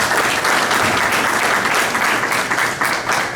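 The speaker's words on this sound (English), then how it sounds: "I have to begin this by just giving a round of applause to the teachers and the administration" An audience at a senior breakfast gives the teachers and administration a round of applause, a dense, steady wash of clapping that fills the room, close and loud, with no talking over it.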